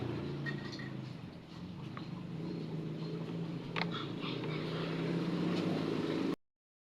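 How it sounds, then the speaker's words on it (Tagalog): Motorized tricycles pass along a nearby road, producing a steady low engine rumble with a few faint clatters and swells. It stays moderately quiet, then cuts off abruptly. "Ang ingay pati ng mga tricycle."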